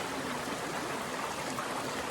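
Water rushes steadily past a campsite beside a stream, a constant broadband flow with no breaks and no voices.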